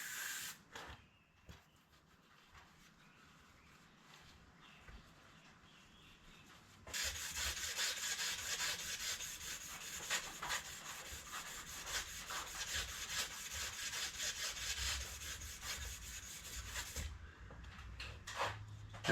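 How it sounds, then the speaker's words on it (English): Brake cleaner hisses onto an old Goldwing motorcycle brake caliper, followed by close rubbing and wiping sounds, a quiet start giving way to a loud, sustained spray and scrubbing section that then cuts off. "I'm going to hit that with some brake cleaner and wipe that off."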